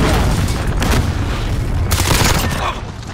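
A cruise missile explosion in Call of Duty: Modern Warfare lands as a loud, sustained rumbling blast mixed with gunfire, swelling again near its end in a dense, close roar.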